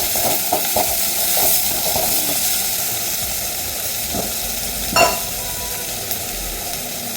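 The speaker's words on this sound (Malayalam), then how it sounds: "ഇനി ഒന്ന് നന്നായിട്ട് വഴറ്റി കൊടുക്കാം" Mushroom roast with chilli sautéing in a pan while a utensil stirs it, giving a steady close sizzle with repeated scraping strokes and one louder clatter near the end.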